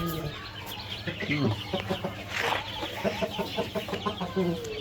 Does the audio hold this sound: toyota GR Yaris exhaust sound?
no